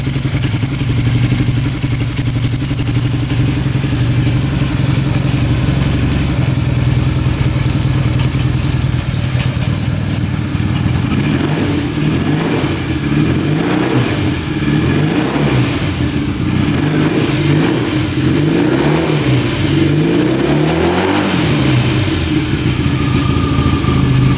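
A rare 1968 British motorcycle engine, revived after more than 40 years, runs steadily and then blips through repeated revs. The engine note is loud and close, with a rough, clattering idle beneath.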